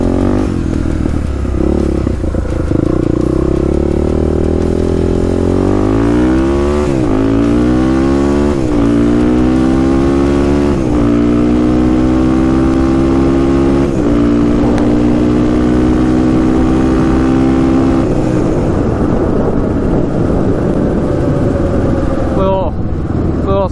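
A Honda 400EX ATV engine revs hard on a road, climbing through repeated rising gear pulls with a strong, steady harmonic whine that stays loud and close for most of the run before easing off at the end.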